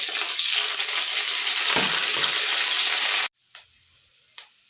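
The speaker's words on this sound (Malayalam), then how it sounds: "പിന്നെ ഇഞ്ചി, വെളുത്തുള്ളി, കറിവേപ്പില ഇട്ട് കൊടുക്കുക. ഒന്ന് മൂത്ത് വരട്ടെ" Ginger, garlic and curry leaves frying in a hot pan, with a loud, hissing sizzle for about three seconds before it cuts off, followed by a couple of faint clinks.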